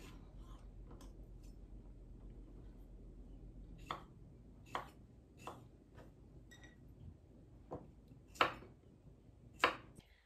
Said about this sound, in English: I'm gonna get all these cut up and into these jars